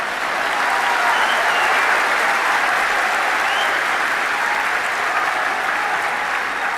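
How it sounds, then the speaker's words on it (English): A large audience at an Islamic lecture event in Oman breaks into loud, sustained applause, a dense wash of clapping that holds steady throughout. "So many clap"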